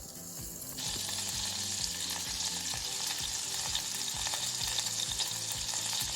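Butter for a bechamel sauce melts in a pan, starting as a soft sizzle that swells into a loud, continuous frying hiss with rhythmic scraping and clattering throughout.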